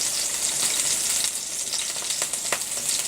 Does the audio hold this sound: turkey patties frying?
yes